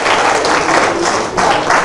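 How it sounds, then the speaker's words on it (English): Loud, dense applause from an audience at a business leader's talk, continuous clapping with a brief dip partway through before it swells again, heard on its own without talk. "Can you please give a round of applause?"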